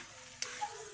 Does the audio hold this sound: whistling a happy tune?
no